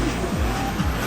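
An off-road race car, number 222, driving a lap in a sand race, its engine roaring continuously with brief pitch sweeps as it passes close by.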